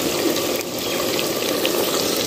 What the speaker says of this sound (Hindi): इसमें थोड़ा सा पानी डालते हैं,